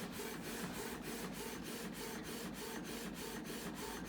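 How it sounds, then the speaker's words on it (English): A Canon wireless printer printing a picture, a steady quiet whir with regular rhythmic pulses of the print head sweeping back and forth, close and alone. "It's working, it's printing."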